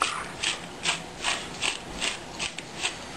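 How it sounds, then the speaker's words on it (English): Mid-century salt and pepper grinders cranked by hand, giving a steady series of about seven rhythmic ratcheting grinds, close and clear with no talking. "we're going to use Joe's super cool mid-century grinders and salt that up"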